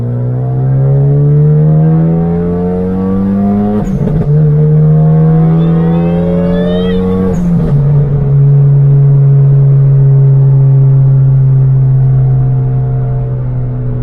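A Genesis Coupe with an HKS flow valve accelerates hard through the gears, a loud droning engine note climbing in pitch, with two quick shifts and short valve bursts in between, heard from inside the car.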